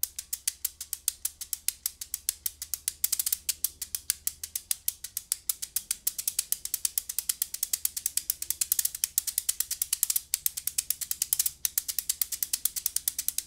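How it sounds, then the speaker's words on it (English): An abacus is shaken like a percussion shaker, its beads clattering in quick, dense, crisp rattling strokes that repeat steadily throughout, with no voices. "You can get an abacus at your local Chinese market, or maybe online."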